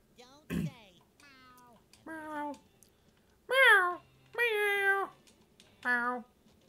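A cat meows in the video game SpongeBob SquarePants: Battle for Bikini Bottom Rehydrated, on the Goo Lagoon pier. There are about six distinct, clear, pitched mews with short pauses between them, some drawn out and others clipped.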